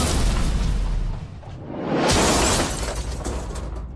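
A powerful explosive blast from an outdoor experiment roars loudly, swelling into a second rushing boom with scattering debris, and no talk is heard.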